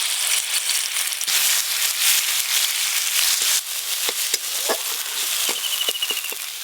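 A mustard, poppy seed and green chilli paste frying in a pan with panch phoron, a close, bright crackling sizzle with scattered pops and spits, steady throughout.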